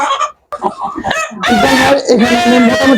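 A rooster crows loudly and close among caged native and hill chickens, a drawn-out call following scattered clucks and short squawks from the flock.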